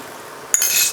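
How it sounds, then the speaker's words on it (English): Cornstarch slurry is poured into a hot wok of spicy squid stir-fry, setting off a sudden bright hiss and sizzle halfway through that stays loud and steady to the end, after a quieter stretch of low cooking noise. "we're going to add our corn flour, cornstarch slurry"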